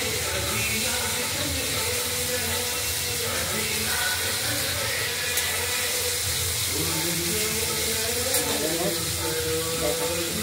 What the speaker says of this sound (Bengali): শিমটা একটু ভেজে নেবো